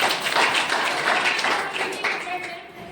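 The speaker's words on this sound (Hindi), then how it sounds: "जबरदस्त ताली।" An audience at a town meeting breaks into applause, a dense patter of clapping mixed with voices for a few seconds.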